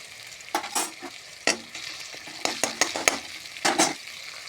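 Ground onion, garlic and ginger paste frying in a pan, stirred until it turns reddish, with a soft sizzle and several close scraping stirs in short irregular clusters, quiet overall, no one talking.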